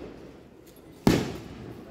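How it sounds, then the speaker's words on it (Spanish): A single firecracker bursts sharply, fairly distant, during a town patron saint festival in San Martín, then leaves a short fading rumble after a quiet lull. "estamos oyendo unos cohetes de bueno, aquí en nuestro pueblo San Martín"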